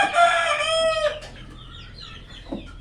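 A hen at a laying nest gives a loud, drawn-out call up close, followed by a few softer clucks in a quiet setting.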